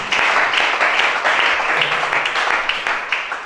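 A church congregation applauds together during a service, steady dense clapping filling the space for several seconds with a faint murmur of voices underneath.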